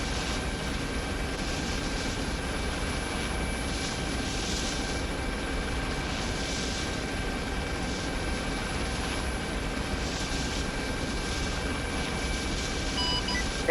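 A helicopter in the military simulation game Arma 3 drones steadily as it draws near, a continuous broadband engine and rotor wash with a faint high whine, fairly loud and unbroken throughout.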